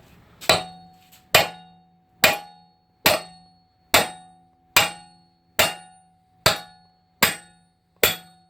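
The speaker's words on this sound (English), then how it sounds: "I've switched over to this. It's just a puller tool." Ten evenly spaced sharp metallic hammer strikes on a slide-hammer style puller removing a Kia Soul driver's side CV axle, each blow ringing briefly and decaying, close and loud against a quiet background, no talking.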